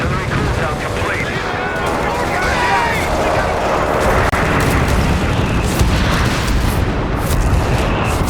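Artillery and gunfire rumble through a Company of Heroes 3 4v4 battle, dense booms and crackling shots layered continuously with loud in-game unit voices calling out.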